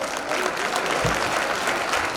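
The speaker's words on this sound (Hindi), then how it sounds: "आप देख करके अनुमोदना करेंगे तालियां बजा" Audience applause at a Jain Panchkalyanak ceremony in Betawad, dense steady clapping from a crowd filling the space for a couple of seconds at an even level.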